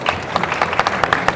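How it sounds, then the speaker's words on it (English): A conference audience applauds speakers at a medical meeting, with dense, steady clapping from a crowd, close and loud throughout the short burst. "So if we can give them another round of applause."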